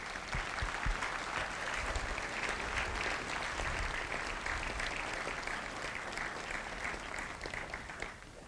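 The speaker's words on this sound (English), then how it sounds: "let's give these family members a round of applause" An audience at a Marine recruit graduation at MCRD San Diego applauds family members, sustained dense clapping from a large crowd lasting the whole stretch, fading slightly at the end.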